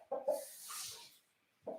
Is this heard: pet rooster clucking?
yes